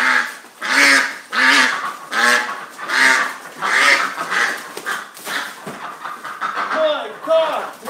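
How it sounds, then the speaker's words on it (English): Two ducks quack loudly and close in a steady run of repeated calls, roughly one per second, with a person's voice mixed in. "Man, these two ducks are crazy."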